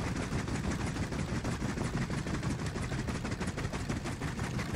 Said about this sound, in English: And we're getting shot at.